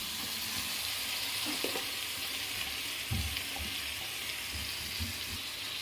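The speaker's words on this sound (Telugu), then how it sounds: "బాగా కలిపి ఫ్రై చేయాలి." Chicken coated with ground chilli paste and salt fries in a pan for a Hyderabad-style chicken curry, giving a steady close sizzle with occasional scraping stir clatter and no talking.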